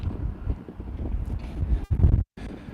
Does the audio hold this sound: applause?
no